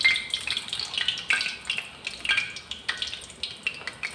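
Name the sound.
sago buttermilk fritters frying in hot oil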